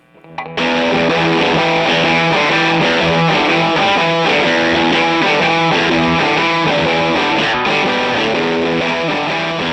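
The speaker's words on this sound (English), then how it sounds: "it's a pedal that's trying to emulate the overdrive character of the amp" Loud distorted electric guitar playing sustained chords through an overdrive pedal into an amplifier made from a film projector, a gritty, crunchy tone ringing steadily throughout.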